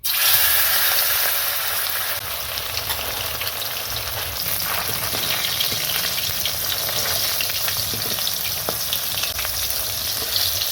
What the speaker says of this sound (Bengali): আমি এবার এই যে মাছগুলো এবার ভেজে নেব।